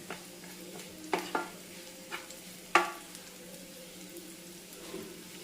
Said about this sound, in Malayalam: പാവയ്ക്ക ഓൾമോസ്റ്റ് ഫ്രൈ ആയി വന്നിട്ടുണ്ട്